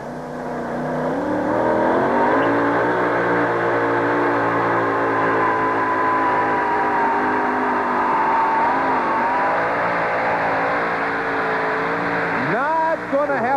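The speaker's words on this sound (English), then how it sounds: "Did not have a real good sound to that engine as it came up the track" A tractor-pulling engine at a 1991 USHRA event in Uniondale roars steadily and loudly as it works up the track, with an announcer talking over it and a rising whine near the end.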